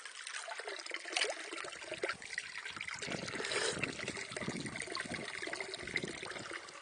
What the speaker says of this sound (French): Alors ça c'est de l'eau qui sort d'on sait pas trop où.